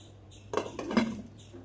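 A vessel is set over a dish of egg masala buns as a makeshift lid, giving two brief, close clinks of cookware about half a second apart in an otherwise quiet kitchen.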